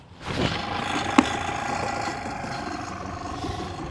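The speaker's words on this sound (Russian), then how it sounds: "Запускаем двигатель." A sailing yacht's engine turns over and settles into a steady, low idling hum at moderate distance.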